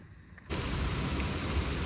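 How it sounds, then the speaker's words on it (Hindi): Steady rain falling outdoors on an evening, a broad, even hiss that starts abruptly and continues loud and unbroken, with no voices. "मैंने बाहर आके देखो भाई क्या बारिश हो रही है"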